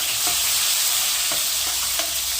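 Chopped onions and tomatoes sizzling in hot oil in a pan for a hotel-style chicken gravy, a dense, steady frying hiss throughout with a few faint stirring scrapes, no talking.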